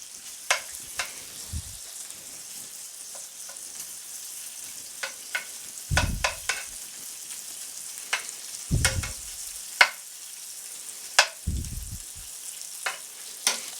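Bacon fries in a skillet with a steady soft sizzle, broken by sharp pops and crackles and several low thuds as the strips are moved and turned.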